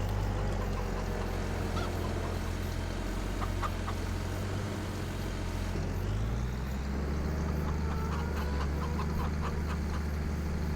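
Chickens in Farming Simulator 25 cluck and squawk sporadically over a constant low engine-like drone, the clucking scattered and moderately close.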